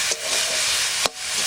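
Sour nalte greens with turmeric and salt cook in a hot pan, a steady loud sizzle and hiss broken by a couple of quick stirring scrapes.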